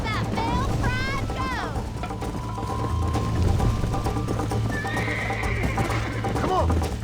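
A horse in the video game Red Dead Redemption gallops with steady clip-clop hoofbeats and lets out several loud whinnies, up close, while a person speaks over the action.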